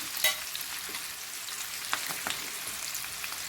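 Chicken is stirred in a frying pan for Korean sweet and sour chicken, a steady soft sizzle with a few scattered light scrapes and taps of the utensil, close and moderately quiet.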